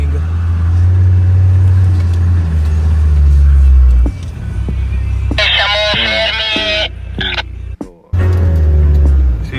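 A stock Land Rover Defender TD5 diesel engine droning steadily while driving across desert terrain in Tunisia, a loud low hum inside the cab that drops away partway through, with people talking over it.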